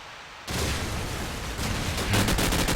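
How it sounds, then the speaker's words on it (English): Rapid gunshots in Call of Duty 4 during a competitive match, a dense continuous rattle of fire that starts abruptly and stays loud, with sharper cracks near the end. "Mark is rattling off a couple of shots"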